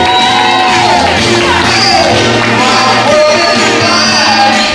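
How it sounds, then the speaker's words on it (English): An audience at a Black History celebration shouts and cheers loudly for young performers, with whoops and yells mixed into a dense, close crowd roar over a musical backing. "give the young folks a big round of applause anyway"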